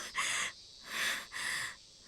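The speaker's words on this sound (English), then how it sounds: "Only the sound of our tortured breathing echoed through the area." Heavy, strained breathing from the video game Higurashi comes as three close, raspy breaths with short quiet gaps between them.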